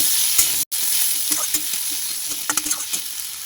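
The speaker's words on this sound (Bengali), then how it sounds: "পেঁয়াজটা আগে একটু ভেজে নেব" Chopped onion frying in a pan, with a bright sizzle broken by scraping stirs and small clatters of the spatula, close and continuous apart from one brief dropout.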